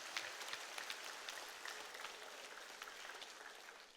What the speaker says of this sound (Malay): Sila bagi tepukan kepada mereka.